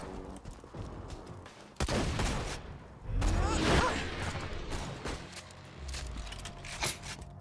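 Borderlands 2 gunfire cracks and rattles in rapid volleys, loud and close, with whooshing movement and clatter between the shots.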